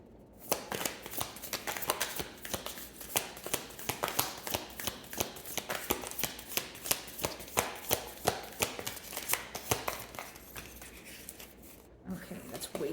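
Tarot cards are shuffled close up in a long run of rapid, crisp riffling flicks, each snap following the last in an even rhythm, with a short pause near the end before the shuffling picks up again.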